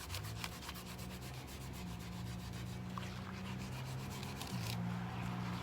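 Steady, close rasping as loose residue is scrubbed off a cast iron pan, a continuous rough rubbing with no break and no talk.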